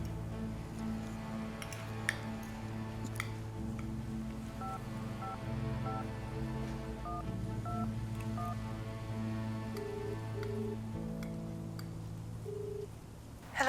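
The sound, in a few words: dialing a telephone number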